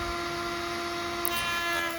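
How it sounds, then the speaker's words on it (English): An upside-down router in a router table spins a flush-trim bit with a top-mounted bearing, a steady high whine with strong tonal harmonics held throughout, close and loud with no talk. "I first start out by using a router bit with a top-mounted bearing"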